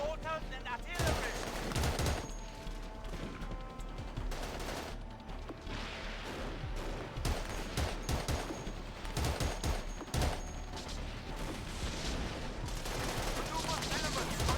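Sustained gunfire in Battlefield 2: Modern Combat, with machine-gun bursts and single shots cracking repeatedly over steady background rumble, moderately loud, while radio voices call out from time to time.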